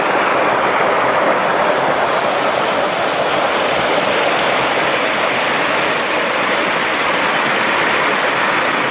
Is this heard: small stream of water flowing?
yes